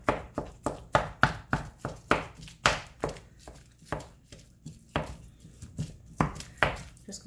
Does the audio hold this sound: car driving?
no